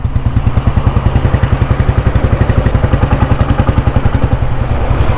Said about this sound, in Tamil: இன்ஜின் மஸ்தாக இருக்குங்க, நல்லா இருக்குது இன்ஜினு.